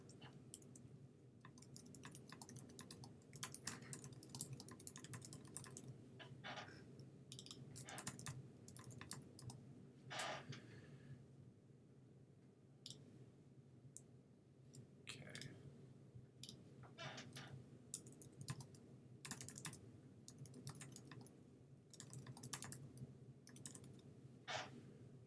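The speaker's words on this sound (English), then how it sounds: "let me just type that in before I forget that." Steady typing on a computer keyboard, a continuous run of close, crisp key clicks lasting the whole stretch over a low room hum, with no voices.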